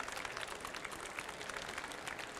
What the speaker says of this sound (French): On peut l'applaudir, Jean-Daniel, avec nous.